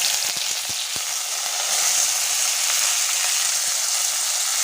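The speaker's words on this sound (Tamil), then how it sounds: "வெங்காயம் நமக்கு நல்லா வதங்கட்டும்." Onion, fenugreek, dried chillies and curry leaves sizzle loudly and steadily in hot oil for a Tamil fenugreek rasam, a dense continuous frying hiss with a few faint stirring clicks near the start and no talking.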